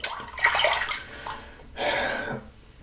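Hands rinsed under a running tap after wet shaving, two bursts of splashing water separated by a short pause, close and moderately loud.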